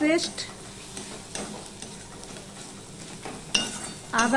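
Ginger paste is stirred into softened, browned onions frying in a pan for Bengali chicken kosha, giving a soft steady sizzle with a few spoon scrapes and clinks against the pan, the last near the end of the clip.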